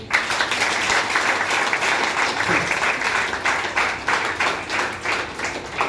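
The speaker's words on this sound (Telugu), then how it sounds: "సార్ ఒకసారి గట్టి క్లాప్స్ చేయండి ఒకసారి" A classroom audience at a motivational class claps loudly and steadily, dense applause with faint voices underneath.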